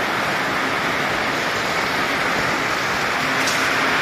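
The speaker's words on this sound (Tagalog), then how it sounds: "Malakas ang ulan, malakas ang hangin mga kalingap po." Heavy rain and strong wind, heard as an unbroken, dense roaring wash that stays loud and even from start to finish, with no voices.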